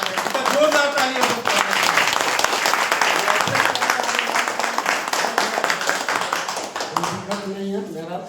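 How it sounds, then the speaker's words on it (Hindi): Loud, dense applause from an audience at a Republic Day gathering at an LIC branch, sustained clapping for several seconds before tapering, with voices audible near the end. "जोरदार तालियां"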